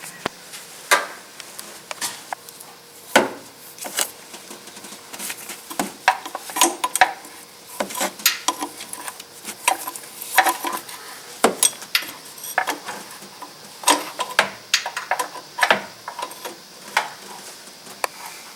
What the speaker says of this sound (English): Using an 11/16 wrench, loosen the high pressure power steering pump hose